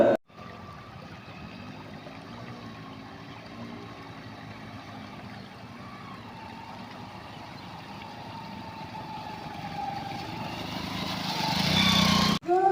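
Flood water rushing over a bridge on a rain-swollen river outside a village, a steady, broad roar continuing without pause, rising into a louder surge near the end.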